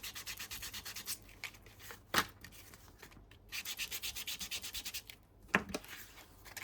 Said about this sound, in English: I'm gonna sand it a little bit because it makes